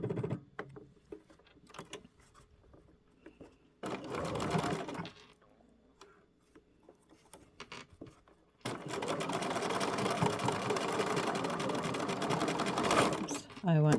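A sewing machine stitching an invisible zipper runs in two bursts of rapid, steady mechanical whirring, a short one and then a longer stretch, with quiet pauses between them where a person talks.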